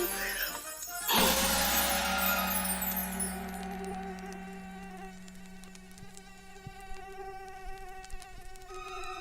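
Near the start, a crash with a shattering quality gives way to a mosquito's thin, high, continuous whine, which lingers close and steady against a busy background in a Hindi comedy scene.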